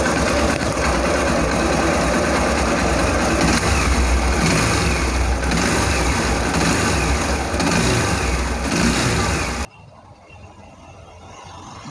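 A Hero motorcycle engine revs up loudly and steadily close by for about ten seconds, with no clear tappet ticking standing out, then cuts to a much quieter background.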